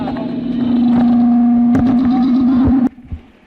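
A race car engine roars loud and close at South Boston Speedway, holding a steady drone before cutting off abruptly, leaving a fainter engine fading in the distance.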